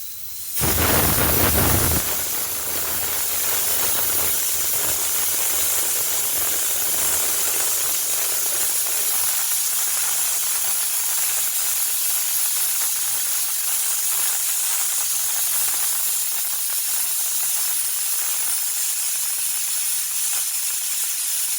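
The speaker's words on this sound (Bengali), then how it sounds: "আমি প্রেসার কুকারের ঢাকনাটা লাগিয়ে দিচ্ছি।" A pressure cooker cooking beef kebab vents steam in a loud, continuous hiss that holds steady throughout after a brief rumbling burst at the start, with no voices.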